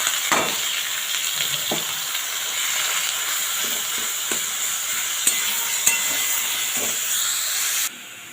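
Grated radish fries in ghee in a pan with a loud, steady hiss and sizzle that runs continuously for several seconds, broken by a few faint scrapes, then drops off sharply near the end.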